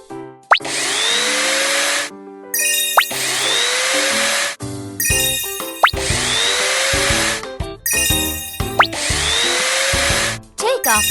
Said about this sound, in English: Loosen the screws.